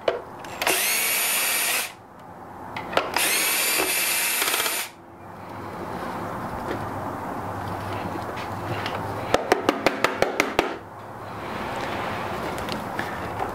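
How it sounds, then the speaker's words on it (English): Power screwdriver backing Phillips screws out of the casing of a Vario vacuum cleaner, two loud whirring bursts of a few seconds each, then handling noise and a quick run of sharp ticks like small parts dropping. "There are two Phillips screws beneath the rear feet. Remove both of these screws."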